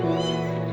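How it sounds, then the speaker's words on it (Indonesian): An orphaned kitten whose mother has died gives one loud, close, drawn-out meow, clear and alone with no talk. "kucing anaknya itu enggak berhenti berbunyi"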